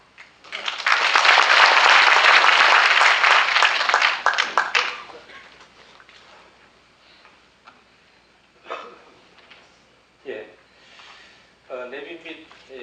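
Guests at a clan association general meeting in Sangju give a loud burst of applause for about four seconds, which fades out and gives way to brief talk and scattered small sounds.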